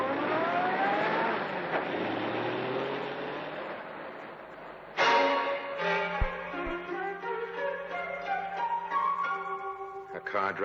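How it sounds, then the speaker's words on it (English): A car drives off at night after a policeman's murder, engine rumbling steadily then shifting and revving as it pulls away, with music rising over it. "A car drives away."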